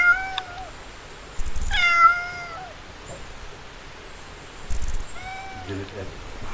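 A trapped cat meows in drawn-out, wavering cries, a few spaced calls over a quiet outdoor background with faint low rumbles.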